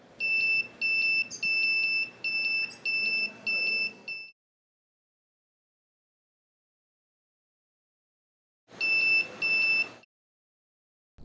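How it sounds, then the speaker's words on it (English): An open source backpack alarm sounds a series of piercing, high electronic beeps in a rapid pulsing pattern, then goes silent for several seconds before a second short burst of the same loud beeping. "press 1 to activate the alarm"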